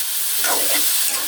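Dried chilies and mung dal sizzle in hot oil in a village kitchen, giving a loud, dense, continuous hiss and crackle up close for a brief moment.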